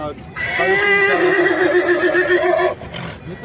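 A horse at a livestock show in Parli lets out one long, loud neigh that rises and wavers for about two seconds before trailing off, heard close by.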